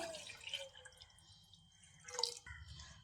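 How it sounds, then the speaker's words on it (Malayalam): Milk, a cup and a half, is poured into a bowl while making a banana snack, giving soft splashing and dripping liquid sounds that rise and fall over a few seconds at low volume. "ഒന്നര കപ്പ് പാല് ഒരു പാത്രത്തിലേക്ക് ഒഴിച്ചു കൊടുക്കാം"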